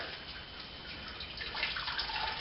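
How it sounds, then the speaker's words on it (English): Slightly cooled boiled water poured through a bag of grain for a partial-mash Pilsener, a soft steady splash that grows louder and more trickling partway through, with no talking. "I'm just going to pour some slightly cooled boiled water through that"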